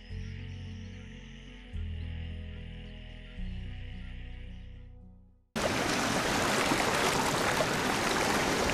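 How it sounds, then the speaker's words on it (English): River water flowing through the OB River, a steady broadband rush that begins abruptly after a few seconds of sustained musical tones. "A group that sees more than just water here, flowing through the OB River"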